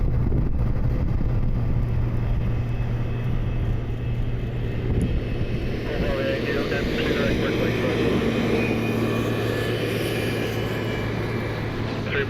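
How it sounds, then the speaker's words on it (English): Business jet at a Cleveland airport during plane spotting, its steady engine roar sustained throughout and rising in a broad whine toward the end, with no one talking over it. "Another business jet."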